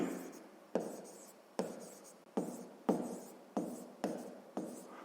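Pen writing an equation on paper, a series of short scratchy strokes starting sharply and fading, about seven in a row at an uneven pace, close and quiet.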